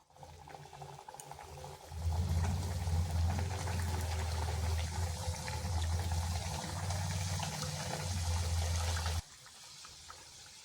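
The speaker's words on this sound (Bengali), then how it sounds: "এখানে কড়াইতে তেল বসিয়েছি, গরম হয়ে গেছে। এরপর দিয়ে দিচ্ছি।" Potato-onion snacks slide into hot oil in a wok and fry with a close, continuous bubbling sizzle that starts abruptly, holds steady for several seconds, then cuts off and leaves only faint background.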